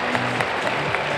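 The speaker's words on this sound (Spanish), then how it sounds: "¡Ese aplauso para Carolina!" A short burst of audience clapping at a basketball shooting contest during a Liga Endesa game, brisk and crowded, lasting only a moment.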